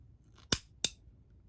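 Doyle crimping tool cutting through ten gauge wire, two sharp close snips about a third of a second apart, then a third click at the end, with quiet background between.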